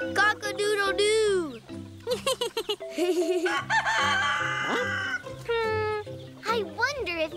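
Animated rooster crowing over a musical score, with cartoon voices heard alongside; the crow rises and falls in long, loud calls, and a voice imitates it.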